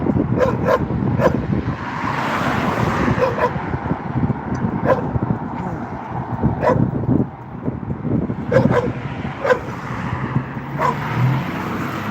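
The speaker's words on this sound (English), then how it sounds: "Somebody's dog." A dog barks repeatedly somewhere outside during a drive to work, short sharp yaps over a constant road and engine rumble, fairly distant.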